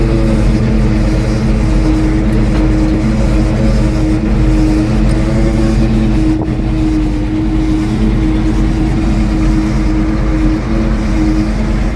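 Old gasoline truck engine idling steadily, a loud, even hum with a faint brief click near the middle and no talk.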